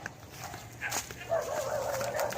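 A few dogs bark and yip faintly at a distance along a hot neighborhood path, short scattered calls over steady background noise with a thin whine partway through.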